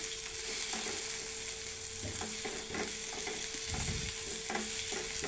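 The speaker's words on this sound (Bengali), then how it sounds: "দিয়ে দিচ্ছি সামান্য তেল, দিয়ে দিচ্ছি পেঁয়াজ, কাঁচামরিচ ফালি সামান্য সটে করে নিতে হবে" Sliced onion and green chili sautéing in a little oil, a steady close sizzle with occasional stirring scrapes throughout.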